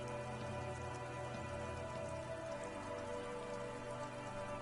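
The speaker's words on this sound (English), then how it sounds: "Urban coastline, rain dripping off Eternite-covered roofs" Rain dripping off Eternite-covered roofs along an urban coastline in Disco Elysium, a steady, even patter of drops with no voices.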